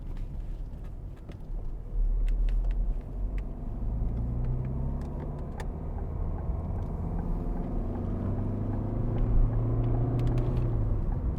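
From inside a 2012 Ford Fiesta 1.4 TDCi diesel on the road, a steady low engine drone and road rumble hold throughout, with engine pitch shifting through gear changes and small interior ticks.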